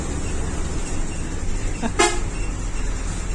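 A bus in Sri Lanka giving a short horn toot, sounding once and briefly over steady road and engine noise.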